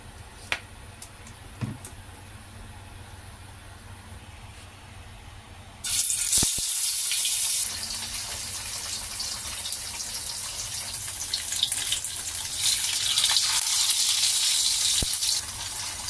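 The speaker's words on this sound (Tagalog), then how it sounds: "Prito natin yung tokwa." Tofu frying in oil in a clay pot, a quiet kitchen that suddenly bursts into a loud, bright hissing sizzle about six seconds in, the sizzle then continuing steadily with no speech.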